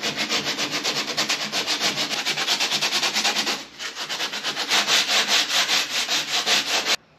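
Hand sanding across a fiberglass van wheel flare, smoothing down high spots with a fast, steady back-and-forth scratching rhythm, close and loud, briefly easing off midway before resuming.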